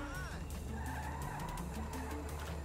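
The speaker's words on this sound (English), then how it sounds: "That's a monster fucking bike you riding" A motorbike engine and squealing tires in the video game GTA 5: a continuous skid and engine roar during a chase, steady and moderately loud, with voices talking over it.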